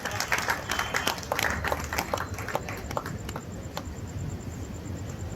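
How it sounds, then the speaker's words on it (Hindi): Audience at a Hindi comic poetry gathering (kavi sammelan) breaking into dense, continuous applause, many hands clapping at once and fading slightly toward the end. "एक बार जोरदार ताली से आप सकते हैं।"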